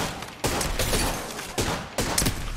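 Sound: gunfire in Apex Legends video game

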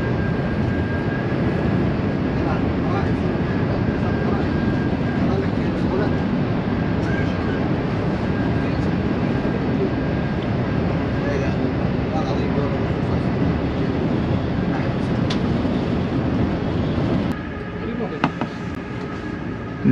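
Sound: Haramain high speed train cruising at 300 km/h

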